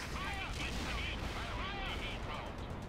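Artillery bombardment in the World in Conflict: Soviet Assault strategy game, a dense, continuous rumble of gunfire and distant shelling with overlapping bursts, steady and loud throughout, with voices mixed into the battle noise.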